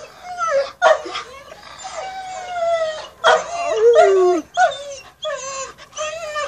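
Two dogs howl and yelp excitedly near a female in heat, with long rising and falling howls broken by short barks and whimpers, loud and close, no talking.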